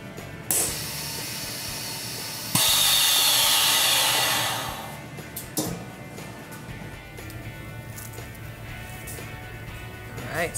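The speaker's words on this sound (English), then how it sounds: "So it kind of appears to be boiling pretty violently, but that's just oxygen being removed from the chamber" A Hamilton Beach PrimaVac commercial vacuum machine making cold brew coffee lets out a sudden loud, steady hiss for a couple of seconds, then settles into quieter mechanical whirring with scattered clicks.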